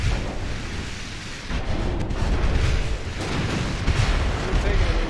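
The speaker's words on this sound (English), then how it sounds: "Here comes the fucking heat-seeking torpedoes." Torpedoes striking a warship in the naval game Ultimate Admiral Dreadnoughts, heard as a dense, continuous roar of booming explosions and battle noise that swells after the first second and stays loud.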